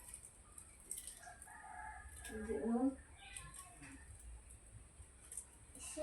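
A rooster crows once at a moderate distance, a rising strained call lasting about a second, with faint clucks and quiet people's talk in a rural yard around it.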